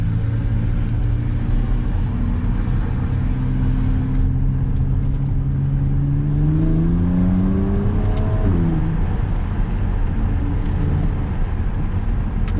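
A BMW Z4 35is with an inline-six biturbo engine pulls hard on a slightly slippery road, its engine note rising steadily before a quick drop at a gear change, then building again, loud and close.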